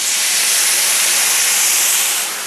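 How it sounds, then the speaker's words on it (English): White wine hits a very hot pan during preparation of Chilean sea bass, producing a loud, steady, broadband steam sizzle and hiss that holds constant for the full stretch and eases off slightly at the end, with no talk over it. "I'm gonna add my white wine."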